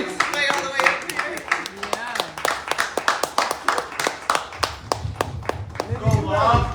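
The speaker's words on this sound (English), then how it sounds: "Please clap Brent up to the stage" An audience at a poetry event claps to bring a featured artist up to the stage, a steady run of sharp, fairly close handclaps with a speaking voice at the start and more voices near the end.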